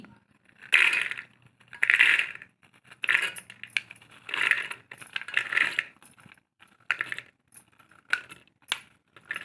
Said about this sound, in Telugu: అలసందలను కుక్కర్లోకి వేసుకోవాలి